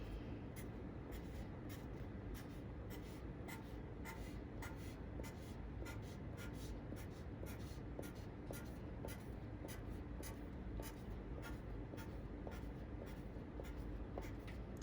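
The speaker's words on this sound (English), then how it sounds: "I'm going to draw a line down." Pen drawing lines on paper for a mandala, a steady dry scratching broken by many short, quick strokes in an even rhythm, close and clear with no talking.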